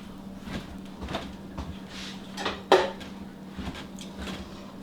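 Spoon knocking and scraping against a pot to lift sticky Rice Krispy treat mixture off the bottom, a series of soft clunks and scrapes with one sharper scrape near the middle, close up over a steady low hum.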